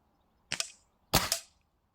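A Diana 48 spring-piston air rifle fires Kaiser pellets. Two sharp, close cracks come about half a second apart, and the second is fuller with a short springy rattle after it, in otherwise quiet surroundings.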